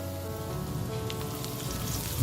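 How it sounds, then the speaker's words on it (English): Garlic sizzles in a tablespoon of hot oil in a frying pan over medium heat, making a steady, dense crackle and hiss close up with no pauses. "I'm now frying the garlic."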